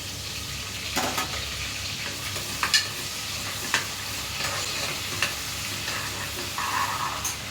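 Green chillies and fenugreek leaves fry in oil with a soft, steady sizzle, broken by a few sharp scrapes and clinks of a spoon stirring the pan, close by with no talking.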